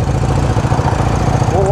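A motorcycle engine roars nearby with a loud, steady low drone and throbbing pulses, its pitch rising near the end as the bike passes.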